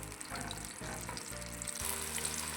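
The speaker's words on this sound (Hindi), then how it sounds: "अदरक की बहुत अच्छी खुशबू आएगी, प्याज की भी बहुत अच्छी खुशबू आएगी। ये समझो हम बघार तैयार कर रहे हैं हरीसे के लिए।" Onion and ginger frying in hot oil for a baghar tempering for chicken hareesa, a dense, steady sizzle that stays close and fairly quiet, with faint clinks and no talking.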